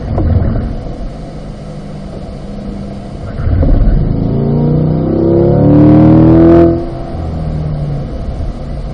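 A car on a driving school track revs up and accelerates with a rising engine note that swells loudly, then backs off sharply as it brakes, leaving a lower steady rumble; no one speaks.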